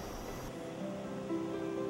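Ocean waves wash steadily along a tropical Costa Rica coastline, a soft continuous surf hiss under faint sustained tones, with no talking.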